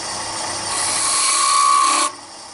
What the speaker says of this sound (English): Use the my Henry Taylor bowl gouge. I'm going to hog it out first and make a cut near the rim.